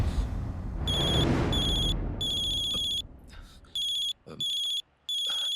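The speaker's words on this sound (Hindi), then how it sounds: "कॉल आ रहा है सर।" A mobile phone ringtone plays for an incoming call, an electronic tone repeating in short on-off bursts, clear and close, after a brief stretch of low background noise.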